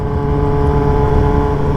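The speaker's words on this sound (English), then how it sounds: "Having a new full system exhaust on it." A 2021 Kawasaki ZX6R motorcycle fitted with a new full system exhaust runs steadily at close range, giving a loud, continuous, even engine drone with no talk over it.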